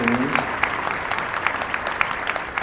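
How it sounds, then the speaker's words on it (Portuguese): An audience at a health-management forum panel bursts into spontaneous applause, a steady dense patter of many hands clapping close by, with a voice speaking briefly over the start. "todo mundo bate palmas espontaneamente"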